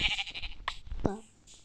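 A Minecraft sheep bleats in short, nasal cries within a busy game scene, with other game sounds mixed in.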